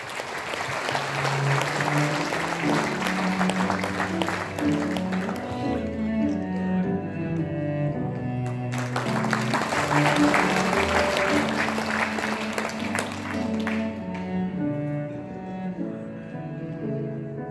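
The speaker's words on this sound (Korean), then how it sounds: "뜨거운 박수로 맞아주십시오" Warm applause welcomes voice actor Bae Han-sung at a book launch event, with clapping from the audience blended with swelling background music that runs throughout, the clapping fading toward the end.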